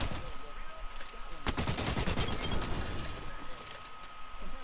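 Sustained gunfire in the video game Apex Legends crackles steadily under game ambience, with a sharp louder volley of rapid shots breaking in near the middle before settling back to a continuous background rattle.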